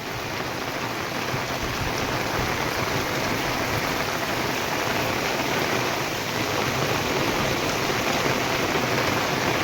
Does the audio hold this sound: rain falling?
yes